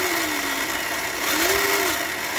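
A small RC model engine idles and shifts pitch as the throttle is worked on the radio transmitter at an RC meet, a steady buzzing drone with two brief rising sweeps, heard close and alone.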